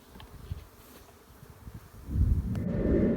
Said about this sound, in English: there's a mass of bees in here